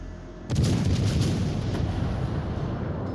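Naval artillery salvo from a warship in World of Warships: Legends, a heavy booming blast at the start followed by a long rumbling roar that sustains loudly throughout with no talk.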